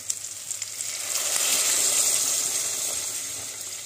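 Meat frying in a pan, a steady close hissing sizzle with small crackles and pops that swells slightly midway, heard alone without talk.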